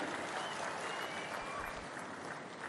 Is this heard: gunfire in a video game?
no